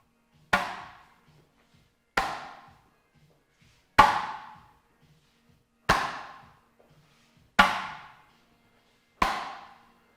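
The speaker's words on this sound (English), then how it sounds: "some of what you're hearing is my hands just slapping against the side of the cabinet" Six sharp hand slaps against the side of a speaker cabinet, evenly spaced about every two seconds, each a crisp thump with a short decaying ring, comparing a box treated with NoRez damping material against an untreated one; no voices.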